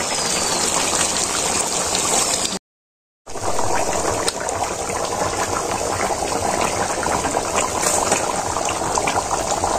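Village-style chicken curry bubbling in a pot while its liquid cooks down, a steady dense boiling and sputtering hiss that runs nearly the whole time, broken by one brief silent gap, with no voices.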